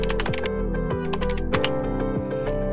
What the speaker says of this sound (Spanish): Digita el número de cédula.